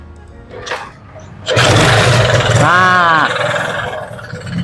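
A 1985 Binter Joy motorcycle engine, which has no electric starter, is kicked over and sputters to life with a loud roaring burst, after someone speaks briefly over background noise.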